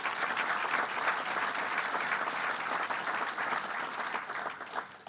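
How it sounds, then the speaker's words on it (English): An audience in New York City applauds continuously, a dense steady clatter of many hands at moderate volume, tapering slightly at the end. "Give yourselves a round of applause."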